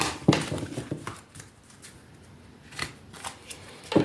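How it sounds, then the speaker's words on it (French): Tarot cards are shuffled by hand in a few soft, papery riffling bursts, close up and fairly quiet, with brief pauses between them. "On va bien mélanger les cartes."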